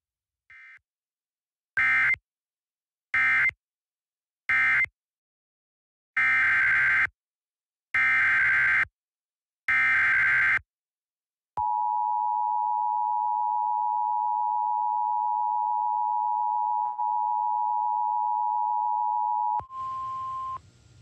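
Emergency alert broadcast tones: several short, loud electronic data bursts separated by silences, then a long steady two-tone attention signal lasting about eight seconds, ending with a brief change in tone.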